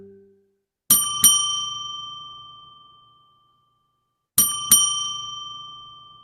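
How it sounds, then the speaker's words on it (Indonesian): A bright point-of-sale cashier notification bell chime rings twice in quick succession, fades into silence, then the same double chime repeats a few seconds later, clear and close. "Jadi nanti di pos itu akan ada suara notifikasi lonceng seperti ini."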